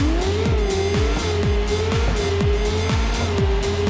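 A McLaren supercar in a racing video game accelerates with a loud, steady engine drone, punctuated by regular rhythmic thumps throughout.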